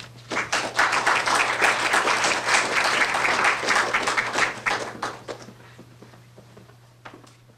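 An audience applauds to welcome a speaker named Collin: dense, steady clapping from many hands that holds evenly for about five seconds, then thins into scattered claps and dies away.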